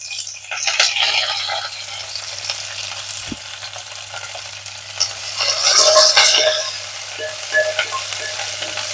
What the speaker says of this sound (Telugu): తాలింపు చక్కగా వేగిందండి.